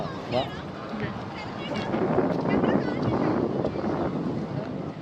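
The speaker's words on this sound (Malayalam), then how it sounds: "അത്യാവശ്യം നല്ല കാറ്റുണ്ട്" Strong wind sweeps across a hilltop wind turbine field in Idukki, buffeting the microphone in a constant rumbling roar, with voices faintly audible beneath it.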